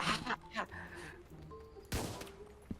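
Several sharp bursts of gunfire in the Roblox game A Dusty Trip crack out in quick clusters, with a loud volley near the end, over a quiet electronic background.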